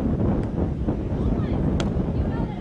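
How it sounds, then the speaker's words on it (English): Strong gusts buffet the microphone at an outdoor tennis match in London, with umbrellas rattling in a steady rough roar under a commentator's voice. "The umbrellas are rattling with the harder wind."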